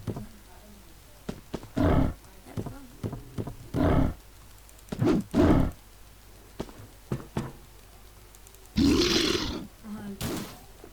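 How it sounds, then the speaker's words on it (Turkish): A ghost wolf in the video game Wolfteam lets out repeated loud growling roars, several short bursts spread through the stretch and a longer, harsher one near the end, with game noise in between. "Bir hayalet kurt daha var."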